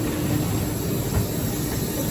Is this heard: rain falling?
no